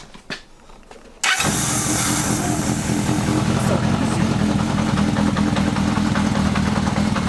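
A quiet stretch ends as a Datsun 280Z engine with a 4-into-1 Kirker exhaust catches on the first try and settles into a loud, steady idle that runs to the end.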